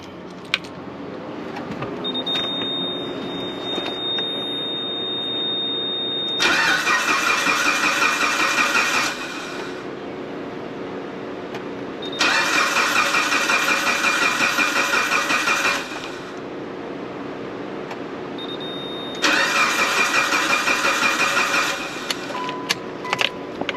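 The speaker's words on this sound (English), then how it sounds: "I don't want it to run straight away and starve a little bit, so I'll just crank it a bit." A Mitsubishi Evo track-build engine cranked without firing: three separate bursts of loud rhythmic starter whirring, each about three seconds long, separated by a steadier lower hum.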